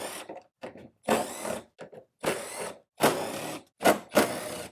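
Several short bursts of a ratcheting tool backing out T30 Torx bolts that hold a car bumper cover during radiator replacement work, about seven separate rattling pulses with brief pauses between them, close and fairly loud.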